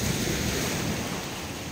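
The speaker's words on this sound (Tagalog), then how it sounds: "Lakas na naman ng alon." Heavy ocean surf roars continuously against the beach at Lobo, Batangas, a deep rumbling wash of breaking waves with wind buffeting the microphone.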